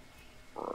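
Rainbow frog in the video game Ni no Kuni letting out a single short croak, which arrives abruptly after quiet background and sounds fairly close.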